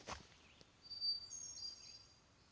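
Forest birds on the Appalachian Trail give a few thin, high chirps and short whistles, faint and somewhat distant against an otherwise very quiet backdrop.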